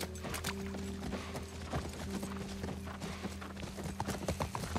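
Horse hooves clip-clop in The Last of Us, the quick, uneven strikes steady throughout alongside faint game ambience, with no talking.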